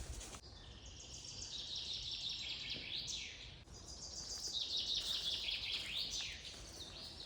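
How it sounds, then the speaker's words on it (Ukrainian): Birds sing continuously with high, trilling phrases, fairly faint in a quiet outdoor setting with no voices. "знайшла місце, де співають пташечки, і майже без сторонніх е, звуків."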